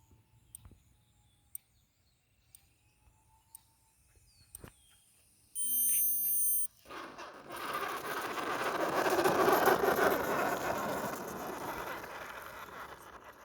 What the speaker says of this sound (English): we're 13 seconds away from our 5-minute timer. As you guys can see, it's about to go off